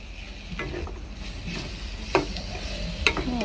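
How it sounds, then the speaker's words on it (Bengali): Pumpkin pieces fry with a spoonful of chili powder in a pan, a soft sizzle running throughout while a spatula scrapes and taps the pan a few times, close and moderately loud. "ও ভালো করে নেড়ে চেড়ে ভেজে নিচ্ছি"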